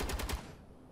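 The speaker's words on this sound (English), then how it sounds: "So it does take quite a bit of shooting to actually take the thruster out." Rapid gunfire at a thruster in Space Engineers, a quick burst of about four close shots that ends abruptly and leaves a fading tail.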